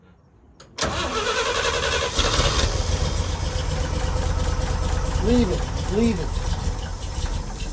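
A 1966 International Harvester 1100A truck engine, long stored, cranks and catches, then settles into a loud, rough, uneven idle close by with brief revving swells, while a person speaks briefly.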